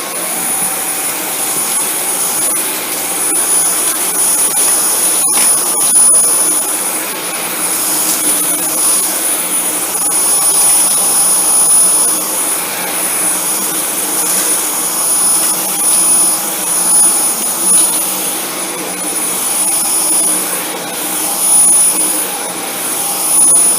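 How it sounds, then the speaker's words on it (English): A Dyson V10 cordless vacuum on medium power with its torque drive cleaner head works over white carpet strewn with debris, a loud steady high-pitched motor whine with gentle surges as it pushes back and forth. "We're using the torque drive cleaner head and the V10 on medium power mode."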